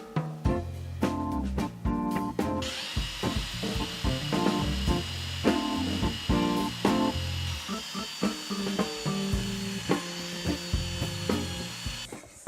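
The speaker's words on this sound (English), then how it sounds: "The sander worked great." A battery-powered sander works over a wooden jewelry box with glued-in splines, a steady rasping hiss that runs from a few seconds in to the end beneath background music.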